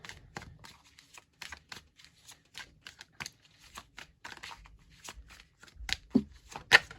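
Tarot cards being shuffled by hand, a close series of crisp riffling snaps and flicks, irregular in rhythm and building to louder slaps toward the end, with no talking.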